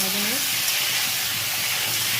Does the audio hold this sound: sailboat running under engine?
no